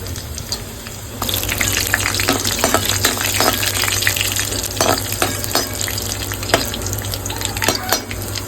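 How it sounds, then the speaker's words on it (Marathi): Garlic cloves and a few cumin seeds hit hot oil for a tempering, and a loud, crackling sizzle with sharp spits and pops jumps up after a quiet second and keeps going. "याला लसणीचीच फोडणी द्यायची"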